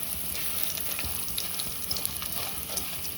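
Half a spoon of asafoetida powder sizzles in hot oil with a fine, even hiss. Light crackle and faint stirring run through it, and no one speaks.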